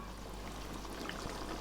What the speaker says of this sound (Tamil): நல்லா கெட்டியான தேங்காய் பாலை ஒரு 1/2 டம்ளர் சேர்த்துக்கிறேன்